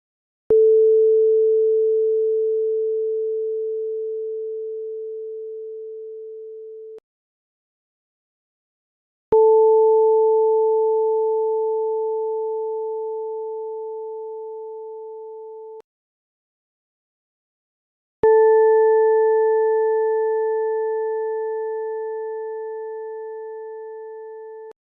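Synthesized vibrating-string tones, like a plucked guitar or ukulele string, sound three times: first a lone steady fundamental, then with an added harmonic, then with a third higher harmonic. Each tone rings about seven seconds with gaps between.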